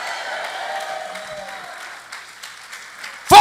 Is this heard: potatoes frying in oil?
no